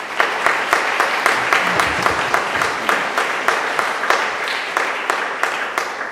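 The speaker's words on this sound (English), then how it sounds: "We should give them a round of applause." Audience applause at a health-effects-of-fracking program, a steady patter of clapping with rhythmic sharper claps standing out, fairly close and continuous throughout.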